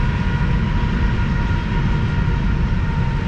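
A train rumbles past near a whitewater river in Glacier National Park, Montana, a steady, loud, dense roar that holds at a constant level throughout with no speech.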